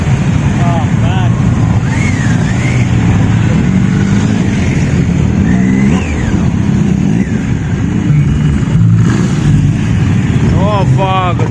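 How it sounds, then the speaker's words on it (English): Superbikes, a Ducati among them, roar past on a Kolkata street with engines revving loudly and continuously, while people talk excitedly nearby over the steady motor din. "All the bikes will come through."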